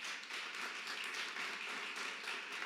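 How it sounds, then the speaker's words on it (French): Audience applause at a community awards ceremony in Montréal-Nord, a steady dense wash of clapping from a crowd, sustained and even throughout without voices. "Fait que s'il vous plaît, applaudissez-le."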